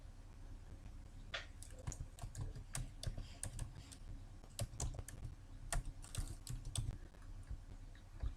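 Keys on a computer keyboard clatter in quick irregular bursts during data entry in an Excel spreadsheet, close and fairly quiet, with brief pauses between runs and no one talking.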